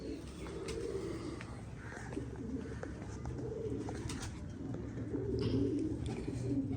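Rooftop pigeons coo in soft, repeated low phrases, close by, over a steady background hum, with a few faint chirps.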